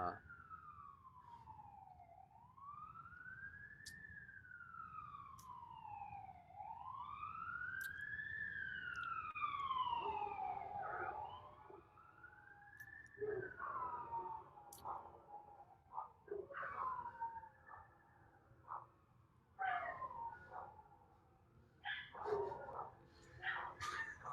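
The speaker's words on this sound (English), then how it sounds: "can you all hear all those dogs barking? It's so classic, right? The siren goes by and all the dogs are just" A police siren wails past, rising and falling before breaking into short yelps, while several dogs bark and howl along with it, fairly near and growing busier as the siren fades.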